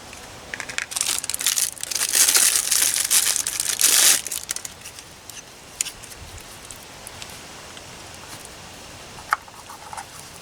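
Thin plastic protective film peeled off a wheel center cap, a close, loud crinkling and crackling for a few seconds, then quieter rustles and a small sharp crackle near the end.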